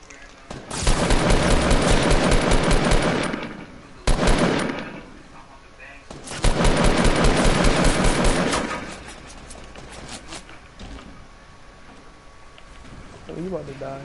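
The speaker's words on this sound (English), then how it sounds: "It's somebody shooting at us." Video game machine gun fire in long rattling bursts, three loud sustained volleys separated by short pauses, with players talking between and over them.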